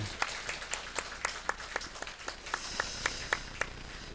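A church congregation claps during a Sunday morning service, a steady, fairly sparse run of about a dozen distinct claps over a few seconds, moderately distant and faint, with no talking over it.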